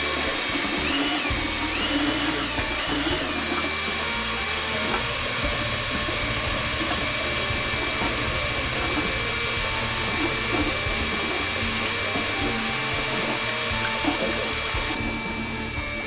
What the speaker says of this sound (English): You just attach it to the drill driver and then it just pumps water.